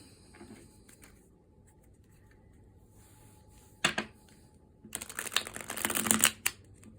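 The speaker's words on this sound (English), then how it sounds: "I'm going to give them one more good shuffle here." A thin deck of tarot cards is shuffled in a quiet room, with a sharp riffle burst midway followed by a longer run of quick, crisp card flutters.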